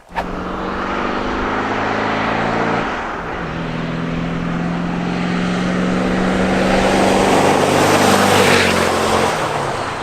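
An old abandoned combine harvester engine catches and runs, a loud, close, steady diesel rumble that swells slightly in revs toward the end.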